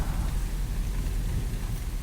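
Steady rain falls in the video game Republique, a continuous dense hiss and patter that fills the whole stretch at an even level with no voices over it.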